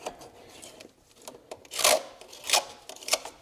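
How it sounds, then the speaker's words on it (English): A gasket scraper rasps over the EGR valve mounting surface on a Ford 4.6L engine, making short scratchy strokes that grow louder toward the end, close up and with no talk. "I'll just take a little gasket scraper, clean up the mounting surface here"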